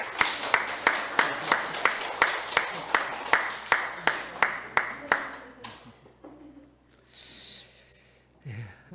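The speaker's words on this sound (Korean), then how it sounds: "우리 박수로 한번 환영하도록 하겠습니다." A church congregation claps in welcome, a steady run of loud, even claps lasting about six seconds before fading into quieter room noise and murmuring.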